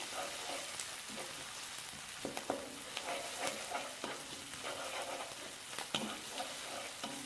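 Yellow onion frying in a pan for pork fried rice, a steady close sizzle broken by occasional scrapes and stirs of a utensil, with no talking.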